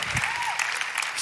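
Brief burst of audience applause at a Sunday evening church gathering, dense clapping from a crowd lasting about a second, with a voice briefly audible over it.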